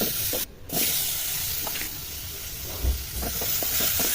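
Ingredients for an okra roti chutney fry in a pan with a steady, loud broadband hiss and sizzle that drops out briefly, then carries on with occasional soft pops and crackles.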